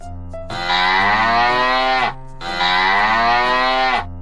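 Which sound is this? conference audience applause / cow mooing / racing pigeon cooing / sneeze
cow mooing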